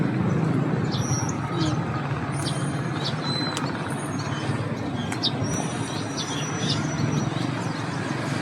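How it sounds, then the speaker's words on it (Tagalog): Birds in a quiet park at the Bicentennial give scattered, brief high chirps and tweets over a constant low rumbling background hum, with no talking. "tahimik, may mga ibon"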